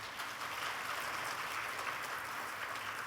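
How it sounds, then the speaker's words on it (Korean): A church congregation applauds in a steady, dense wash of many hands clapping at once. The sound is fairly soft and unbroken, with no voices standing out. "좋으시면 박수 쳐도 괜찮은 거예요"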